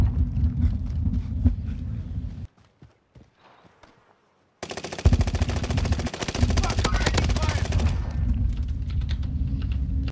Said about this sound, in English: Was that him shooting you?